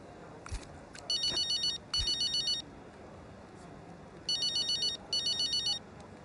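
A phone ringtone in the F1 2025 video game trills in four short electronic bursts, in two pairs with a pause between them, clear and alone over a faint background.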